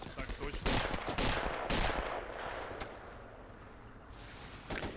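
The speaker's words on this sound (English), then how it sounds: "Alright, MP40s are firing off." MP40 submachine guns firing in the WWII strategy game Gates of Hell: repeated bursts of automatic fire with loud cracks, layered over a noisy battlefield backdrop that fades slightly before another burst.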